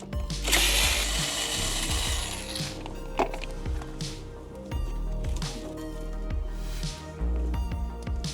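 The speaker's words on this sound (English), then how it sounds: "We then now have 4 other screws that we need to remove." Screws being removed from the dashboard of a 2014–2020 Jeep Cherokee: short whirring bursts from a power driver, with clicks, rattles and plastic knocks in between.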